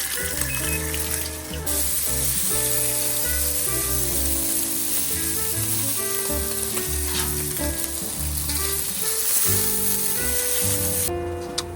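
Bacon frying on a hot Blackstone 22 inch griddle, a dense, loud, close sizzle and crackle running without a break, with shifting tones and occasional scraping or stirring sounds mixed in.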